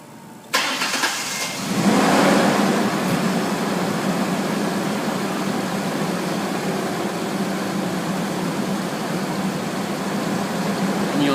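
Ford Explorer 4.0L V6 SOHC engine starting and then settling into a steady, loud idle, running continuously with a constant mid-pitched hum and no talking.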